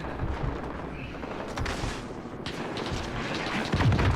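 Gunfire from a PC video game running with ray tracing on an RTX 2060: a dense run of sharp shots and bursts crackles steadily over a loud, busy background of game sound throughout.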